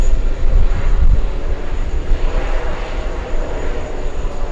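Large jet aircraft, a Boeing 747 airliner, slowing down on runway 13 left near the TWA Hotel in Los Angeles, giving a steady broadband engine roar that stays loud and fairly close throughout, with no talk.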